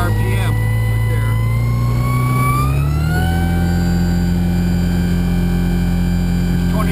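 Electric front sustainer motor on a glider spooling up to high RPM in flight, a loud steady drone whose pitch rises smoothly and then holds, with someone talking over it.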